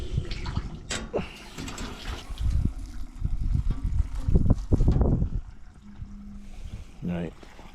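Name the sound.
water running from an old water trough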